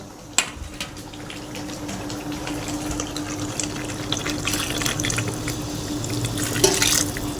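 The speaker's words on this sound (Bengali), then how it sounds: "আমি এখানে গরম জল করে নিয়েছিলাম আর এবার গরম জলটা আমি ঢেলে দেবো" Hot water pours into mutton curry frying in a wok, giving a continuous close splash and hiss over sizzling oil, with a few louder splashes near the start and the end.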